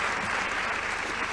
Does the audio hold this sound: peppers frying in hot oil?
no